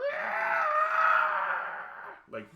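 A voice imitates the shrill squeal of a paper towel roll, likened to a screaming child: one long, loud, strained wail lasting about two seconds, followed by a short breathy trailing sound.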